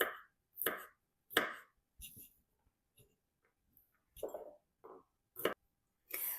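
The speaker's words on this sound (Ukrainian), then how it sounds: "Часник нарізаю довільно, ось такими невеличкими слайсами." Crisp knife strokes slicing through garlic on a cutting board, irregular single cuts with short pauses between them, close and fairly quiet.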